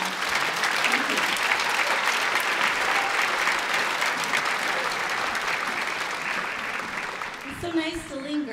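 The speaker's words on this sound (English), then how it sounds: "So one more round of applause" Audience gives another round of applause at a school choral concert, sustained dense clapping throughout before it cuts off and a voice speaks at the end.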